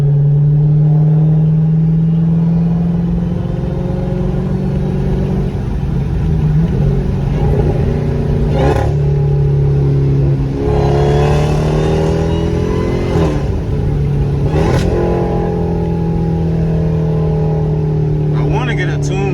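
Inside a Dodge Durango Hellcat at night, the engine drones loudly, then rises in pitch through hard pulls with gear shifts, while someone talks over it.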